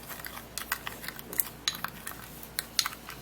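A spoon stirs a small homemade skin-care mixture of tablespoon-measured ingredients in a bowl, giving light, irregular metallic clinks and scrapes close by, spread over a few seconds with no talking.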